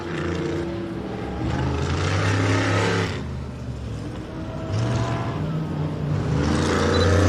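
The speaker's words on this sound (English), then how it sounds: "And there's a Rufus car drag racing on out." An off-road race car pulls out at an off-road racing event, its engine roaring and revving in long rising swells at close range, loud and continuous throughout.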